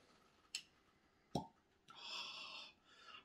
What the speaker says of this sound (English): How I've missed the pop of cork